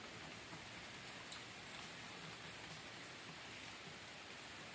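Steady rain falling on leafy garden plants, a dense, even hiss of drops on foliage with no breaks, continuous and fairly soft throughout.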